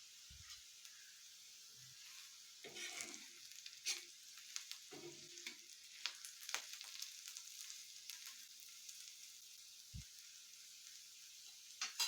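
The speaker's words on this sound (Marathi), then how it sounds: "यामध्ये जे कांदा लसूण मिरची टाकलेली आहे आलं टाकलेलं आहे ते व्यवस्थित त्याचा वास आला पाहिजे तोपर्यंत त्याला परतून घ्यायचं" Onion, garlic, green chili and ginger sauté in a pan with a steady, quiet sizzle, broken by a few soft scraping stirs and small clinks near the start, with no one speaking.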